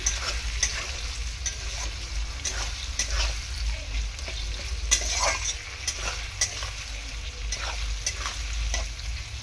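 Onion stirred and fried in a pan for fried rice, a constant sizzle over a low hum with regular scraping stirs every second or so, close and moderately loud.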